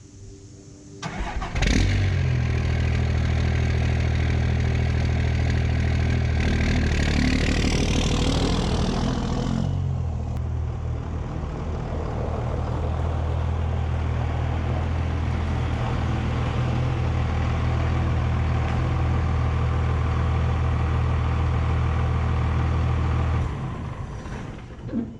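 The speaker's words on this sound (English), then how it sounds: "Let's get it fired up and pull it in the garage." A 2001 Dodge Ram diesel truck cranks and fires up, revving loudly for several seconds before settling into a steady, rumbling diesel idle as it is driven into a garage, with no talking.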